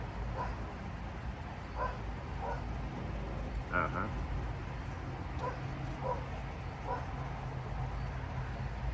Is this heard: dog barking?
yes